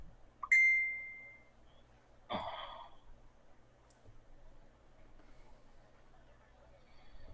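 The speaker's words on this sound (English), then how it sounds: "My phone's going crazy." A mobile phone sounds a notification ding, a clear high tone that rings briefly up close, followed a little later by a short rustling burst and then near quiet.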